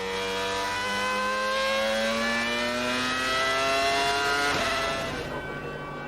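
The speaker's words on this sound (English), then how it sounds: "When the cars did go at full speed, it was Kimi Räikkönen that set the fastest lap" A 2004 Formula 1 car howls past at full racing speed, its high-pitched engine rising steadily and then dropping sharply as it passes close by, loud and alone.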